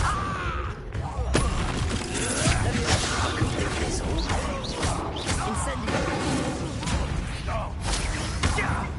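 An Incendio fire spell cast in Hogwarts Legacy bursts out amid a busy, dense battle mix of whooshes, crashes and clattering effects, steady and loud throughout with voices in the background.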